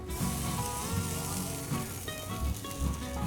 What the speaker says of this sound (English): So I'll put it down on the top, let it sit there, start cooking that, starts getting the fats cooked in it.